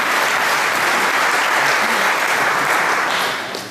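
An audience at a sports club's annual awards meeting applauds steadily, with dense, sustained clapping that fades slightly at the end.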